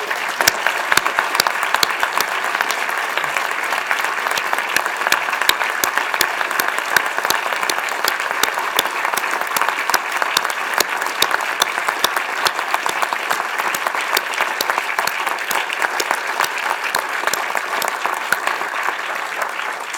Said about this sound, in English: So please join me in celebrating the formal dedication of the Indiana University Cinema with a round of applause.